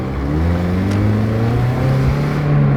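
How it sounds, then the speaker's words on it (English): Old car with a little bitty engine and a 5-speed manual transmission accelerates hard, its loud engine note climbing steadily in pitch close by for a few seconds with no talking. "Even with this little bitty engine, it's still got plenty of zip with a 5-speed standard transmission"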